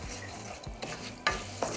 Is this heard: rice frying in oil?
yes